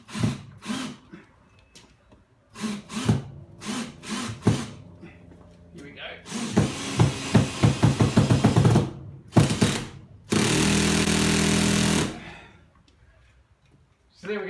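A power driver sends a screw into a garage ceiling bearer while overhead shelves are put up, with short trigger bursts, a loud ratcheting stretch and a steady whirring run, close and loud.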